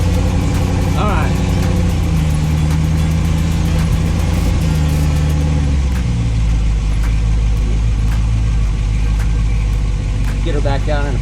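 A Twinnebago van's engine runs loud and steady at idle with a deep low rumble, shifting pitch partway through as it drops toward first gear, while people talk over it.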